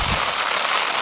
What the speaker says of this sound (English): that racket that you can hear is very strong wind, not the bait weeds, and very strong rain